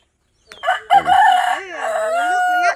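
A bantam rooster lets out one loud, close crow lasting about two seconds, rising sharply and then holding a long wavering note before cutting off, with no one talking.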